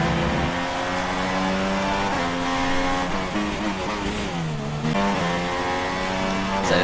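Formula 1 car engine screaming through a qualifying lap in the F1 2016 video game, a loud, continuous high-revving whine with repeated rises in pitch and quick drops at gear changes and braking.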